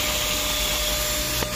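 A wet vacuum draws dirt out of a Nissan Sentra GX fabric car seat, a loud continuous whining roar held steady close by, with a brief bump near the end.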